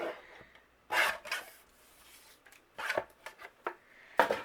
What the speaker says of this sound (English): And then I'm going to trim off the excess that's overhanging.